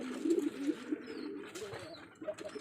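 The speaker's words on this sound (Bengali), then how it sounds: "40-50 জোড়ার মতো কবুতর আছে, যেখানে বাচ্চাও আছে, ডিমও আছে।" Native pigeons coo in low, throaty bursts on a farm housing around forty to fifty pairs, with eggs and chicks present; several overlapping calls rise and fall close by, with brief faint chirps and no talking.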